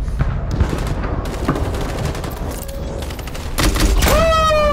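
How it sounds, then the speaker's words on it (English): Rocket launcher fire in the video game Detroit: Become Human: a string of sharp blasts and crackling bursts, loud and close, ending in a heavy burst with a rising whine. "A rocket launcher!"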